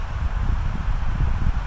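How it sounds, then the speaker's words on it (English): Steady, rough wind buffets the microphone with a low rumbling roar that persists throughout, without any talking. "Pretty windy here"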